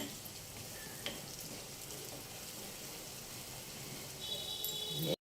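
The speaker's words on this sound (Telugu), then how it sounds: "ఉల్లిపాయ వేగాలండి. ఉల్లిపాయ, వెల్లుల్లిపాయ, కరివేపాకు," Onion, garlic and curry leaves fry in hot oil with a steady, soft sizzle that swells slightly near the end, faint and continuous.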